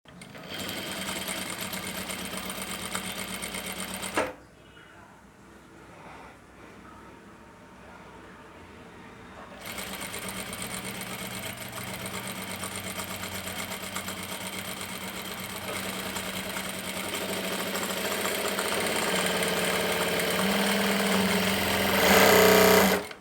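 Power sewing machine stitching cloth with a B5 gathering presser foot, a steady close mechanical whir that pauses for several seconds midway, then resumes and grows louder toward the end.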